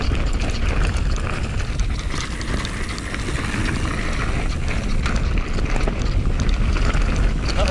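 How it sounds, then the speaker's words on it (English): Strong wind roars steadily and loudly across the microphone while mountain biking through the jump trails of Llandegla forest, a constant rushing buffet with no clear talk. "A little windy."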